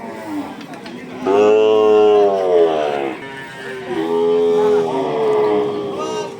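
Cattle low and moo loudly in long drawn-out calls amid the busy Kalaroa cattle market in Satkhira, Bangladesh, with voices chattering in the background throughout.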